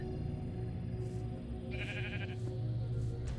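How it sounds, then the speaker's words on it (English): A sheep bleats in the Minecraft video game, with one clear mid-length bleat standing out over a steady background of game sound and ambient hum. "Oh, sheep."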